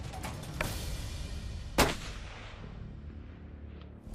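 A single loud rifle shot cracks out at a whitetail deer during the rut, followed by a long rolling echo that fades into outdoor quiet.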